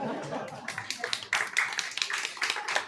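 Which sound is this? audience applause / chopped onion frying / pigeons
audience applause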